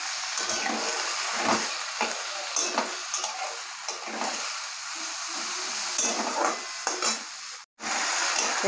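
Sliced potatoes and onions fry in a pan for a Bengali fish curry, giving a steady, close sizzle with soft stirring scrapes throughout and a brief cut near the end.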